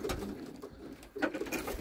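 Pigeons in a loft keeping white and homing birds, giving soft, low repeated coos at a moderate distance, with a quieter pause in the middle before the cooing resumes.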